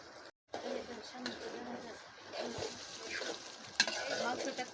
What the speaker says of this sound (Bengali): মাংসটা কষিয়ে নিয়েছি